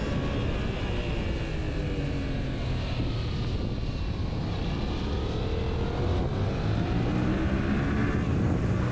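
A 2021 Yamaha MT-07 motorcycle accelerates hard on a twisty road, its engine note building under a steady, loud rush of wind with no talking.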